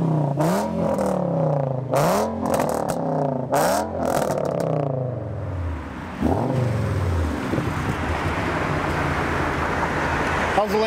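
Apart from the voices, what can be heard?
Lamborghini engine revving as it drives by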